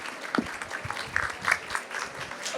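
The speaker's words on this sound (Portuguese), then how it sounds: "vamos fazer mais uma salva de palmas para as nossas panelistas" Audience applause for a panel of women on a stage at the SP-Arte art fair in São Paulo: dense, steady clapping at moderate distance that continues for the whole stretch with no voices over it.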